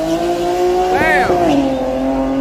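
A BMW drag racing car passes close by at a drag strip in Dallas, Texas, a loud engine whine rising and falling quickly over steady idling engine drone, with a brief tire squeal as it goes by.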